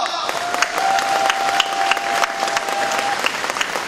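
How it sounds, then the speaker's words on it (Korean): Loud, dense applause from a crowd at a party leadership election rally in Gwangju, with sustained clapping throughout and a faint steady whistle-like tone running above it. "뜨거운 박수를 보냅니다."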